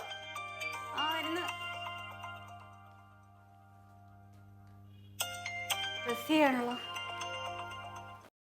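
A phone's electronic ringtone repeats a bright melodic pattern in a domestic scene from a Malayalam comedy serial, fading and returning while voices break in around the rings.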